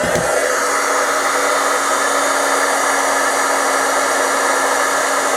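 A heat gun blasts steady, loud hot air across melting embossing powder, a continuous close broadband roar with no pauses and no talking.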